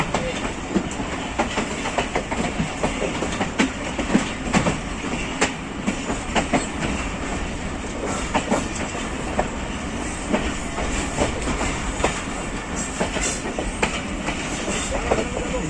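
The Jaffar Express rolls onto a loop line with a loud, sustained rumble, wheels clicking in a steady clack over rail joints close by, a faint squeal occasionally rising above the train's din.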